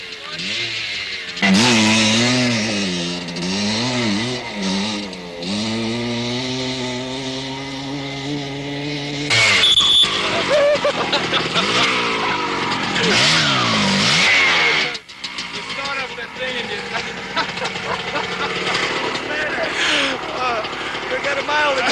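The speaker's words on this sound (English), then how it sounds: "I was nervous just getting ready to ride the little Harley up the dirt ramp" A small Harley motorcycle engine revs and climbs a dirt takeoff ramp, rising and falling in pitch, followed by a louder burst of engine roar and wind, with a voice speaking over part of it.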